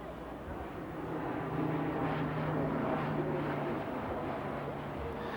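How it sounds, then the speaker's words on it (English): Turbolet propeller transport aircraft sideslipping on approach, a steady moderate drone of turboprop engines with a faint sustained tone, swelling slightly and then easing off over several seconds. "you can see how manoeuvrable it is as test pilot Vladimir Vulk sideslips it on the approach"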